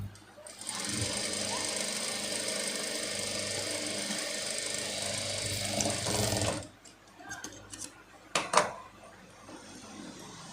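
A sewing machine double-stitches a blouse seam with a fast, continuous mechanical whirr for about six seconds, then stops, leaving a few close clicks and handling noises.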